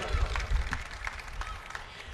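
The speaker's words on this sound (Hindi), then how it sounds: "एक बार जोरदार तालियां हमारे सारे शायरों के लिए हो जाए।" A crowd applauds the poets at an Urdu shayari recital, a broad wash of clapping with a few louder bursts, partly under a speaking voice.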